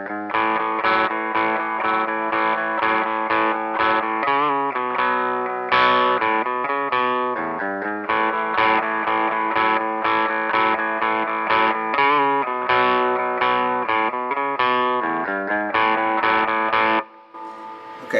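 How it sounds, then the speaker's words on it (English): Two distorted electric guitar parts of a song's lead-in play together as one dense, continuous riff with effects, loud and steady for about seventeen seconds before stopping abruptly. "try to do both guitar parts simultaneously, that would sound like this"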